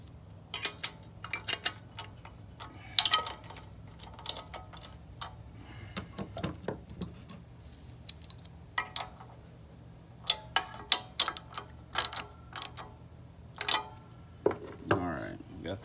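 A wrench turns the carburetor retaining nuts on a Briggs and Stratton generator, giving a run of small irregular clicks and metallic ticks, close and fairly quiet, with brief clatter of parts between them.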